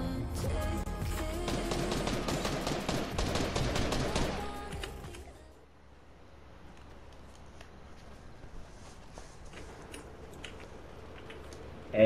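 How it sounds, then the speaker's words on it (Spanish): Rapid bursts of gunfire from a Fortnite match in arena mode fill the first few seconds, dense and loud, then fade to quieter game ambience with scattered faint clicks and shots. "Hemos hecho el mismo disparo."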